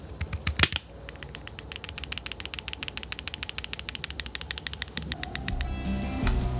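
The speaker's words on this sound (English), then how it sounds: "if you shake it, you can kind of hear this little clicking noise inside the pencil" Rapid, light clicking from loose parts inside a Kindle Scribe stylus pencil being shaken, repeating in a steady rattling series, close and fairly quiet, over a low background hum.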